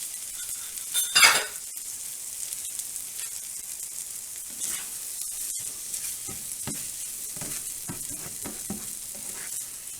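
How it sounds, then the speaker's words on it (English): Whipped eggs scramble in a hot pan for a breakfast burrito with chorizo, onions and potato, giving a steady close sizzle with a sharp burst near the start and repeated scrapes and stirs of a utensil, no talking. "we're going to cook this until the eggs are done all the way through"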